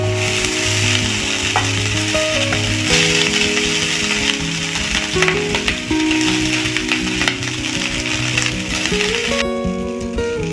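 Cooked rice frying in a pan with butter and garlic crackles and sizzles loudly and continuously, with stirring and scraping, over steady tonal background music.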